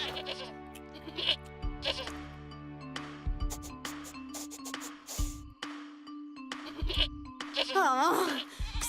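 Cartoon goats from a Barbie animated adventure bleat several times in short, wavering cries, loud and close, mixed with music and with characters speaking between the calls.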